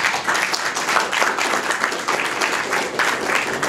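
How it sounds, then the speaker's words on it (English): An audience at an expert panel discussion in Brisbane gives the panelists a steady round of applause, dense, even clapping from a room-sized crowd with no talk over it. "if we could give a round of applause to our panelists."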